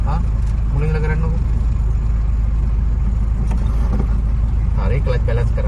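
A car engine rumbles low and steady during a clutch-balance driving lesson, heard from inside the cabin beneath ongoing talking.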